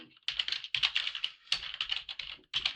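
Rapid typing of a command on a computer keyboard, a close, bright, dense run of clattering keystrokes broken by two short pauses, with no voices.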